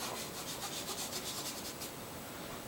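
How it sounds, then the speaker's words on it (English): A weathering finish rubbed by hand over a model junkyard piece, a steady close scrubbing rasp with quick back-and-forth strokes for most of the stretch before easing into a smoother, even rub, no voices. "And you just rub it all over there like that."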